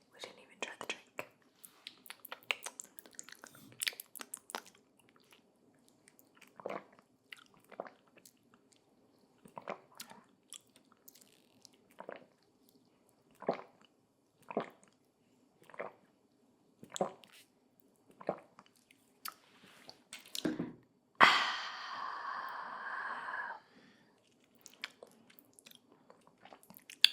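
Close, intimate chewing and biting of Thai food with lemon, soft wet bites and munching repeated every second or two, with whispering voices between mouthfuls and a louder crunchy burst near the end.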